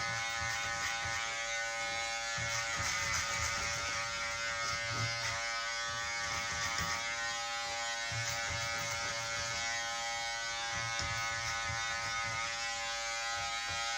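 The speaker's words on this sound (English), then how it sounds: "So all you gotta do is just kind of turn your clipper around." An electric hair clipper buzzes steadily and continuously while cutting a medium men's fade, a close, even mechanical hum with no talking over it.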